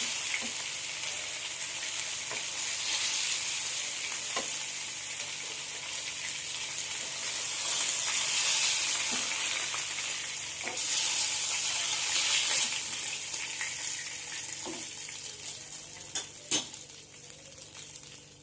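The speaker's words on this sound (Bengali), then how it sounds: "চিকেনটা আমার উল্টো পাল্টা করে ভালো করে ভাজা হয়ে গেছে" Chicken pieces frying in hot oil in a pan for a tandoori gravy masala, a steady close sizzle running throughout with occasional soft clicks of turning and handling near the end.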